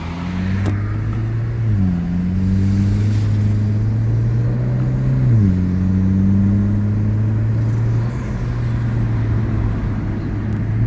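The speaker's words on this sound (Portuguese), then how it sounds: "Vou dar uma esticadinha para ouvir o motor." A car engine hums steadily, its pitch climbing and dropping twice as it shifts up through the gears, loud and close with a low rumble throughout.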